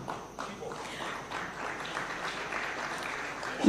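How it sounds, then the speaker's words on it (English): Scattered, fairly distant applause at a Taxpayers Day awards ceremony at State House as recipients walk up to receive their awards, with a soft, steady clatter of clapping across the room. "A round of applause as they go to"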